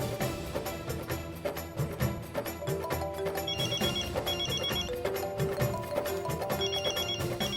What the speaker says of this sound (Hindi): मैं रिंग बजने दूंगी